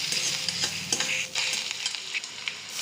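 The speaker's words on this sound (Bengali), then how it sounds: "তেল কিছুটা থেকে গেছে, ওটি পেঁয়াজ দিয়ে ভালো করে ভেজে নিলাম" Onions fry in leftover oil in a pan, a close, bright crackling sizzle with quick stirring scrapes and faint metal clinks throughout a short burst, no voices.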